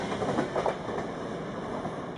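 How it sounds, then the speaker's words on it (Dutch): A train travels on rails with a continuous rumbling roll and faint rhythmic clatter of the wheels, heard from inside or near the carriage at moderate loudness. "We nemen nu meteen de trein."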